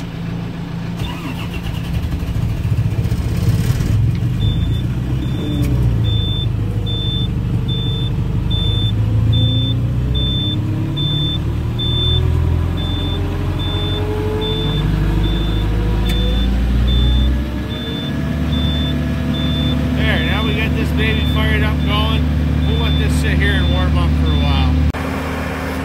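A farm machine with cold hydraulics starts up during hobby-farm livestock feeding chores; a loud engine cranks, catches and runs with a rising, shifting drone, and a voice is present throughout.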